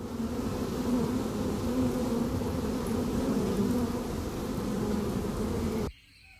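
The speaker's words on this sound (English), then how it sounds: "Oh, that's the bees." Steady, dense buzzing of a bee swarm fills the scene in the adventure game Sumatra: Fate of Yandi, holding a loud, even drone without pause before cutting off abruptly near the end.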